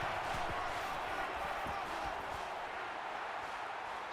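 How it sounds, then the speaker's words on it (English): Stadium crowd in the NCAA Football 14 video game, Indiana Hoosiers against Ohio State Buckeyes, a steady broad roar heard from a distance with dull thumps low underneath. "This crowd can really be intimidating for an opposing team."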